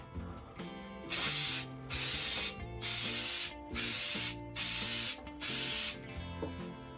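A Plasti Dip spray can sprays onto MDF board in six short bursts, each about half a second long and evenly spaced, close up, with faint mechanical clicks and rattles in the gaps.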